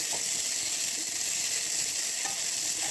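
Small lemons sizzle in a hot pan for lemon pickle, a steady bright frying hiss running throughout, with faint scrapes of stirring now and then; no voices.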